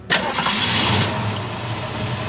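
A classic car engine at an automotive museum cranks and catches, then settles into a steady, rumbling idle, close and loud, with no one talking over it.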